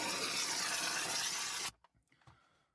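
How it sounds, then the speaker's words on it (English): A pressure washer blasts car floor mats with a loud, steady hissing spray that cuts off abruptly, leaving a few faint knocks and drips after. "we just finish them off with a pressure washer front and back"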